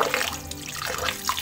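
Water splashes and trickles steadily as pieces of Bombay duck fish are washed clean, the running flow close and continuous with slight surges, no talking over it.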